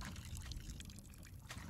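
Planted seeds are watered in the video game Botany Manor: a faint, soft trickle of water pouring steadily for a moment, quiet and close.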